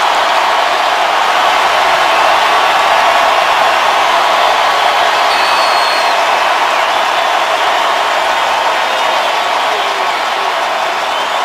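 Steady, loud stadium crowd roar at a Houston Texans home NFL football game against the Jacksonville Jaguars, a dense continuous wash of noise with no break across the whole stretch.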